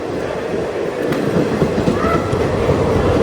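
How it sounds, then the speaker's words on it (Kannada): A train pulls in close and loud, a continuous heavy rumble of rolling wagons with rising rattle and a faint squeal of wheels, filling the whole stretch. "ಗಾಯ್ಸ್ ಫೈನಲಿ ಟ್ರೈನ್ ಬಂತು"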